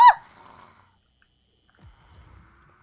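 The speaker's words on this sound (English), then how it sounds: "I hear a goat." Inside an attic in the horror game Devour, a goat gives one short, sharp bleat up close, followed by faint, scattered low sounds and near silence.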